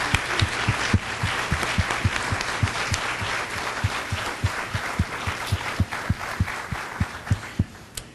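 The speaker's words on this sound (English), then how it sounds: "let's give our panelists a round of applause" Applause from the audience at a social work panel discussion, a steady wash of clapping with a rhythmic thumping beat running underneath for several seconds.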